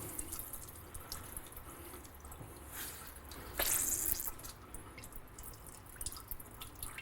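Water dripping and trickling from a grated vegetable being squeezed hard by hand in a kitchen, soft close drips and splashes with one brief louder burst midway, otherwise quiet.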